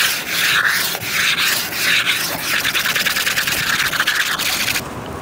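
A grill stone scrubs back and forth across a flat-top griddle, making a loud, continuous gritty rasp with rhythmic strokes that fill the clip before trailing off at the end.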